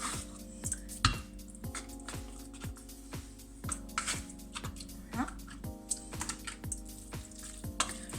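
A spoon stirs leeks and shrimp in a frying pan with garlic and herbs, giving steady rhythmic scraping strokes about twice a second over a soft sizzle, with a faint voice in the background.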